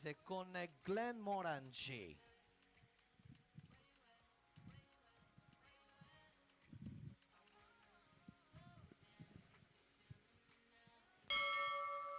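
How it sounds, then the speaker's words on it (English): A single start bell rings at a junior show jumping competition at a European championship for young riders, a bright sustained tone near the end after a stretch of commentary and arena noise. "There's the bell."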